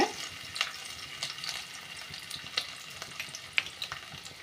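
Cashews and chopped ginger frying in hot ghee, a faint steady sizzle dotted with light pops and occasional stirring clicks, close but quiet, no voices.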